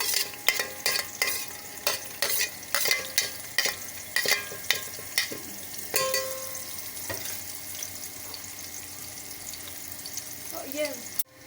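Chopped onion goes into hot oil in a pan: a run of clattering stirs and scrapes with sizzling for several seconds, then a calmer continuous fry with occasional knocks.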